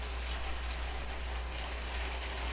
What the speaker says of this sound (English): I'm gonna have to close my windows because it started raining